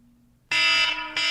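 A loud, continuous electronic alarm blares in abruptly after a quiet start, holding a harsh, buzzing tone that dips briefly and then resumes at full strength.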